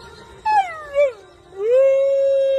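A dog howls alone and close, in long wavering tonal cries that rise, dip and then settle into a sustained steady howl.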